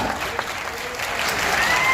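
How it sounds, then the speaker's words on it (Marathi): Students clap together at a career guidance gathering in Nanded, a dense, steady burst of applause filling the hall throughout. "एवढेच जण टाळ्या वाजवा"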